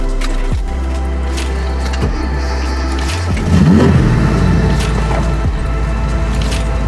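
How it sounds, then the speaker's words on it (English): A hot-started 1975 Datsun 280Z fitted with individual throttle bodies, its engine catching and settling into a steady idle, then rising under a blip of partial throttle and staying loud and close. "Just a little bit of partial throttle just to get the engine speed up when you first start it. Starts right up."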